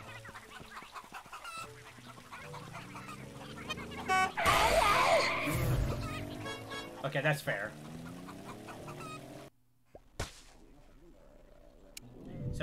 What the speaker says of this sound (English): Scares some chickens